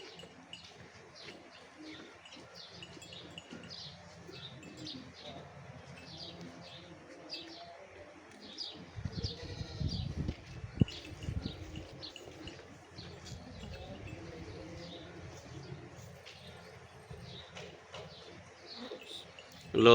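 Pigeons coo and chirp softly near a cow at a farm in Pakistan. The calls come in repeated faint bursts, with low thumps and shuffling from the animal partway through and a quiet murmur of voices.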